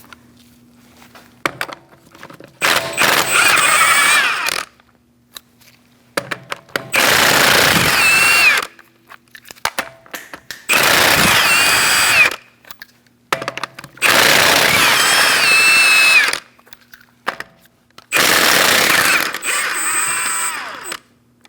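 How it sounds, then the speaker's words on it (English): Five loud, sustained bursts of a pneumatic impact wrench spinning off the 19mm lug nuts on a 2012-2020 Chevrolet Sonic 1.8L, each rattling for about two seconds with short quiet gaps between, no talking. "Using a 19mm socket, we're going to remove our lug nuts."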